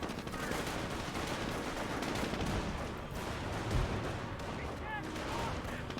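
Sustained, dense gunfire from a Company of Heroes battle: machine-gun and rifle fire mixed with distant artillery, continuous and fairly loud across the whole stretch, with a faint voice underneath.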